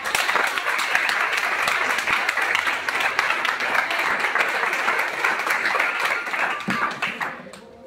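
Audience at a church vigil in a youth hall, a loud, dense round of applause and cheering sustained for several seconds before it cuts off abruptly.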